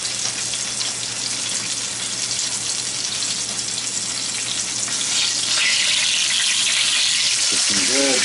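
Chicken fried steak sizzles steadily in a cast iron skillet, a continuous close frying hiss that holds level throughout with a brief clatter and watery gush near the end.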